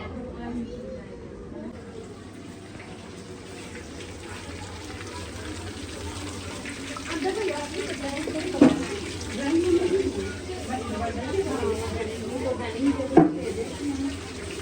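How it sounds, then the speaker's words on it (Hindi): Fish sizzles and spits as it fries in a pan at an outdoor cooking spot, a steady hissing bed with a few sharper pops, under close voices talking throughout. "ये जी यहाँ पे भाभियाँ जो है ना फिश फ्राई कर रही हैं।"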